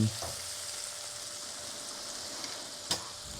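A soft, steady sizzle of pork tenderloin frying in a hot pan, low and constant, with a faint clack of a utensil near the end.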